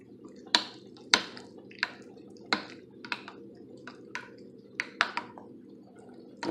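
Lasagna filling with about 2.5 tablespoons of oregano being stirred in a bowl, a series of soft wet squishes and clinks at an irregular rhythm over a steady low background hum, close and fairly quiet.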